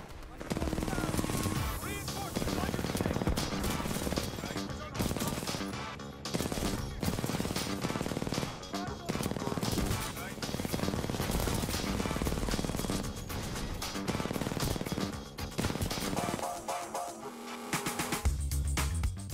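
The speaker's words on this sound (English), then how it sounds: "The R97 is arguably the worst submachine gun in the game." R97 submachine gun in Titanfall 2, firing rapid sustained automatic bursts almost continuously, loud and close, with a voice talking over the shooting.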